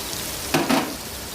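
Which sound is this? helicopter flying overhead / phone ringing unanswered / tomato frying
tomato frying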